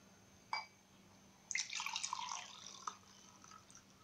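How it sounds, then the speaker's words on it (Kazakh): Homemade hydrolat is poured from a vessel into a container in a quiet room: a few soft drips first, then a brief, light trickle of liquid, faint and close, with no talking. "Бұл гидролатымызды қазір ыңғайлы ыдысқа құйып алайық"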